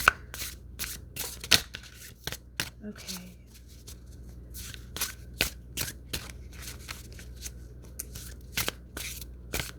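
Tarot cards being shuffled by hand in a quiet room, with a series of crisp riffling bursts in an uneven rhythm, close and moderately soft, and a brief spoken word among them.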